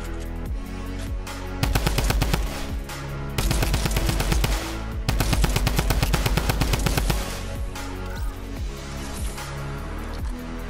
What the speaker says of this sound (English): I'm gonna shoot you guys down for the sake of fun.